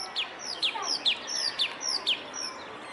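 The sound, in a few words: birds chirping and calling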